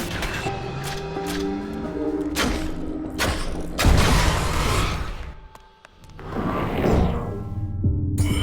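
Explosions in the Transistor video game, a series of heavy booms and thuds with sweeping whooshes, loud and close, one large blast in the middle followed by a brief lull and more rumbling bursts.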